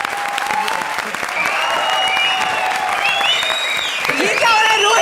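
A comedy show audience breaks into loud, sustained applause, with dense clapping and whistles rising over it for several seconds.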